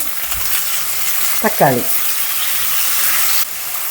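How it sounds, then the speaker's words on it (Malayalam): Onions sauté in a pan for onion chutney, a loud, steady close-up sizzle with stirring throughout and a brief high chirping tone in the middle. "ഉള്ളി നന്നായിട്ട് റോസ്റ്റായി വരുന്നുണ്ട്"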